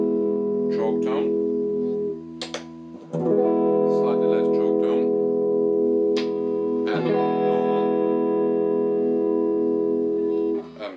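A 1965-66 Gretsch Tennessee Rose hollow-body electric guitar played through its neck pickup with the choke tone switched in, giving sustained strummed chords with a thinned, nasal voice and two brief pauses between strums.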